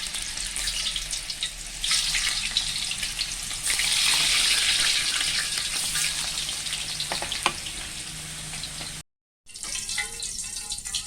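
Potatoes frying in a lot of hot oil, a steady close sizzle and crackle that swells and eases over several seconds before a brief gap, with light kitchen clatter.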